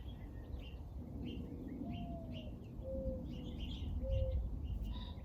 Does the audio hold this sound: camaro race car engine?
no